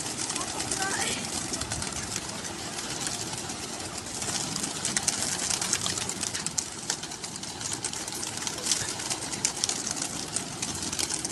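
Racing pigeons coo softly at a pigeon release amid a dense, noisy outdoor background, with a voice talking over much of it.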